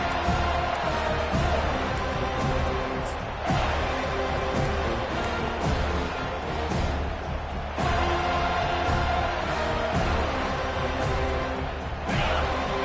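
A large crowd roars steadily at an American football stadium during a late drive deep in one team's end, dense, loud, continuous cheering and whooping that surges in waves.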